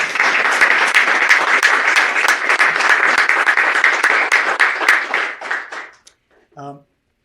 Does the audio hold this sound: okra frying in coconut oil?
no